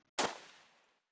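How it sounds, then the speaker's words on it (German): A single sharp gunshot in the video game Jagged Alliance 1.13, a loud close crack followed by a decaying reverberant tail lasting under a second. "Ich glaube, der letzte Schuss kam von jemand anderem."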